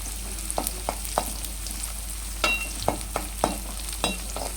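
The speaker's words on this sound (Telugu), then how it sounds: "ఇప్పుడు పచ్చిమిర్చి కూడా వేసుకోవాలి ఫ్రెండ్స్. బాగా కలుపుకోవాలి ఫ్రెండ్స్." Onions and green chillies stirred and fried in oil in a pan: a constant low sizzle with sharp, irregular spatula scrapes and taps against the pan, close by and fairly loud, with no talk.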